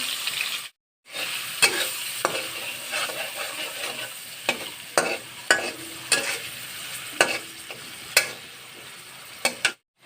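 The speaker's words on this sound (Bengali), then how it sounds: "রসুন তেল দিয়ে দিয়েছি তেলের মধ্যে প্রথমে চিংড়ি মাছ ভেজে নেবো" Shrimp coated with turmeric and salt frying in garlic-infused oil: a steady close sizzle with repeated sharp clicks of a utensil stirring against the pan, one brief dropout near the start.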